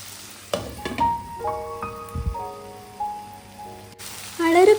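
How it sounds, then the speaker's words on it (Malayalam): Salted, washed chicken pieces going into a pan with tomato, giving a crackling sizzle and stirring beneath soft background music, with a voice speaking briefly at the end. "കഴുകി വൃത്തിയാക്കി ഉപ്പ് മാത്രം ഇട്ട് വെച്ച ചിക്കൻ അതിലേക്ക് ഇട്ട് കൊടുത്തു കേട്ടോ"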